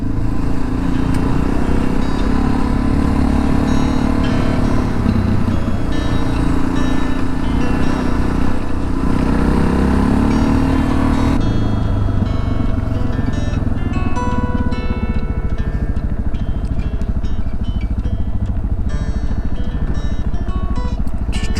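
A motorcycle climbs a steep, loose-gravel two-lane road. Its engine drones loud and steady throughout, with wind buffeting and gravel crunching beneath the rear tire.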